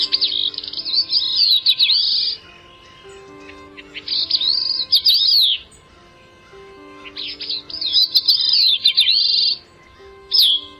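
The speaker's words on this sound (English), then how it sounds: "It's Catharus bicknelli, the Bicknell's thrush." Clear, high-pitched Bicknell's thrush song phrases repeat in several bursts separated by pauses, with a steady faint hum underneath.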